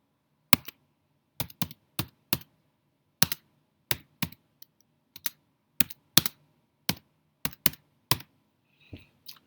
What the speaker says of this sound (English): Now in my text box I created, I'm just going to type